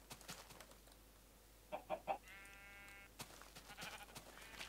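Three quick clucks of video game chickens in Minecraft, then a short buzzy bleat-like call, over faint clicks and soft background noise, all quiet and synthetic-sounding.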